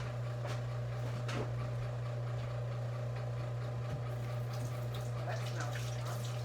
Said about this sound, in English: I'm gonna wash my hands and come back.